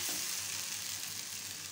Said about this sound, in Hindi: जो आलू है और मसाला है उसे भी हम बीच बीच में चलाएंगे, ताकि जो मसाला है आलू है अच्छे तरीके से दोनों भून के रेडी हो जाए